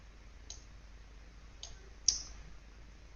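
A computer mouse clicks on a quiet desk during spreadsheet work in Excel, three sharp separate clicks spaced about a second apart, with the last one louder, set against faint room hiss.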